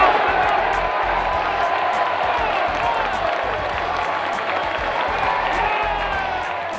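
A baseball crowd at a championship final in Quebec erupts in sustained cheering and applause after the Capitales' 12-7 win, a dense, roaring wall of clapping and whoops that holds steady throughout.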